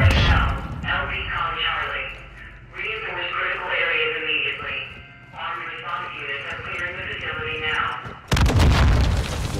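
Grenade launcher rounds go off in Call of Duty: Modern Warfare II as a sharp, loud blast near the end, following several seconds of players talking over each other above low game noise.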